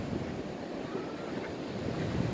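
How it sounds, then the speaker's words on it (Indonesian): Steady roar of ocean surf breaking on the beach at Gua Cina, south Malang, with wind buffeting the microphone, continuous and fairly loud without pauses. "suara deburan ombak yang saling menyaut-sautan"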